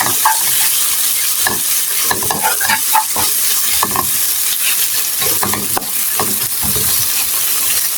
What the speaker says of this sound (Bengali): আমি এই পেঁয়াজের সঙ্গে ভালো করে সবজিটি মিশিয়ে নিচ্ছি।